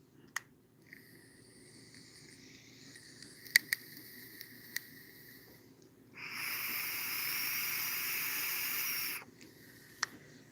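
A vape being hit crackles and pops, with scattered sharp snaps and a high tonal whine, then a sustained loud hissing draw of about three seconds, followed by a final pop, close up.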